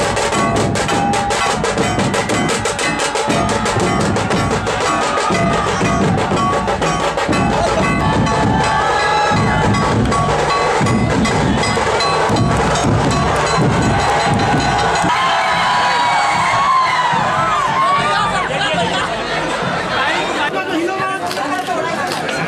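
Dense crowd of hundreds gathered for actress Raveena Tandon's visit in Chandrapur, loud continuous chatter, shouting and cheering with scattered thumps, and the roar thinning slightly toward the end.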